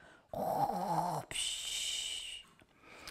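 A narrator's voice imitates an old woman snoring in a park, giving two drawn-out snores: a low, rumbling one, then a thinner, higher wheezing breath, quiet and close.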